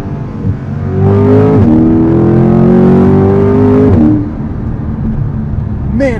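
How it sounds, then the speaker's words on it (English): A 2021 Chevrolet C8 Corvette Convertible accelerates hard in manual mode, its loud engine climbing in pitch and dropping sharply at each very quick gearshift, two or three shifts in a row before the engine note falls away. "Man, are those rifle quick shifts."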